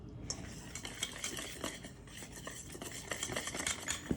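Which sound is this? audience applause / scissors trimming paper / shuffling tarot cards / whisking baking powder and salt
whisking baking powder and salt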